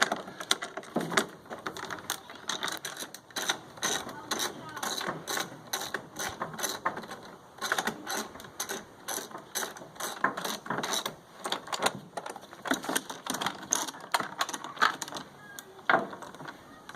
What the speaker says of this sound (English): There are a couple more bolts that we'll go ahead and remove on this side.